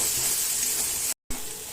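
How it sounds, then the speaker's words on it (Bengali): Steady, bright sizzle of a spice paste with peanuts frying in oil in a pan for mutton curry, loud and continuous, broken by a brief gap of silence. "মশলাটা ভালো করে ভেজে নেব"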